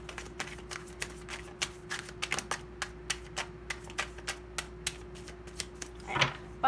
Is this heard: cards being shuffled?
yes